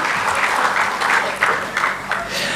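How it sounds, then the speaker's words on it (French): A crowd claps steadily for Joy, the official mascot of the CJSEI Games, at an arena launch ceremony. The dense applause stays fairly loud with a few sharper swells throughout, and no voice is heard. "un tonnerre d'applaudissements s'il vous plaît, mesdames et messieurs, pour Joy, la mascotte officielle des Jeux de la CJSEI"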